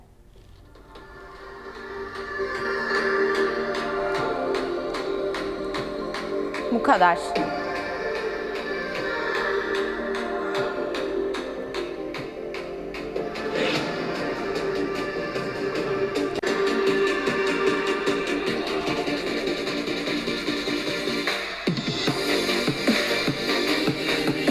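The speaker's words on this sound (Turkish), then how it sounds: "Şimdi telifsiz bir müzik açacağım ve yüksek sesle dinleyeceğim." Loud music plays continuously from a small Xiaomi Mi Pocket Speaker 2 Bluetooth speaker, sounding bright and somewhat thin, with a few brief thumps partway through and a short spoken phrase near the end.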